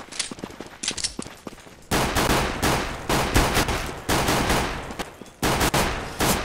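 Automatic gunfire rattles in the game Counter-Strike: Global Offensive, with scattered shots at first and then long, loud sustained bursts broken by short pauses.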